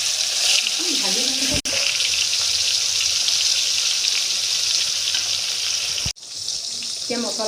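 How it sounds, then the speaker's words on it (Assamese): Pointed gourd pieces rubbed with turmeric and salt sizzle and crackle steadily in hot oil, a loud continuous frying hiss with brief breaks and some stirring clatter. "এয়া পটল, তেল গৰম হ'ল, এতিয়া পটল দি দিছোঁ।"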